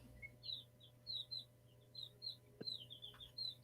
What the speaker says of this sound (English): my chickens are loud, aren't they? They are, man. They've been chirping all night.